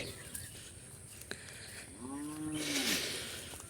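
A single drawn-out cow moo, fairly close, rising then fading, over faint outdoor background noise.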